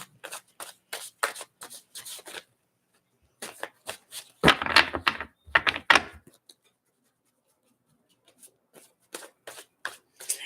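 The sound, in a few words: shuffling tarot cards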